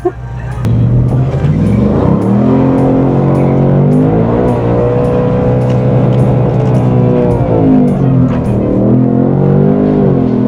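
Ford Mustang on a drag run at Zwartkops, heard from inside the car: a loud, steady engine roar that climbs in pitch through several gear changes and never lets up.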